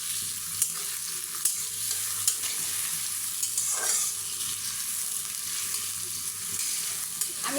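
Fish roe fries in oil in a pan, giving a steady close sizzle broken by the light scrape and clink of stirring at regular moments.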